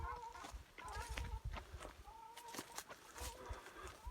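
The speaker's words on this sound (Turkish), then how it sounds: "muhteşem bir kuş sesi" Repeated bird calls and clucking chirps, fairly close, with short bursts scattered through an outdoor background.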